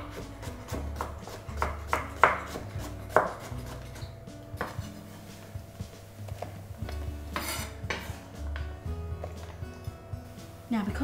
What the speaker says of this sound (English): Let's cut some of this ball zucchini, a bit like an apple again.